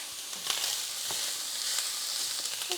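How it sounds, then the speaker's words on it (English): Italian sausage browns in a pan turned up too high, giving a soft, steady frying hiss with a few faint pops and crackles. "Got that turned up a little too high. Getting some browning on our sausage."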